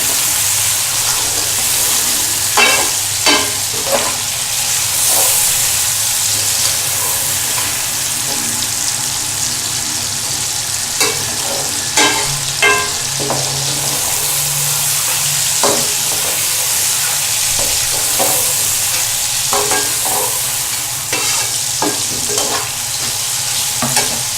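Chicken liver and gizzards fry in a pan with a steady sizzle, broken by repeated scraping stir strokes and clinks throughout, close and fairly loud with no talking.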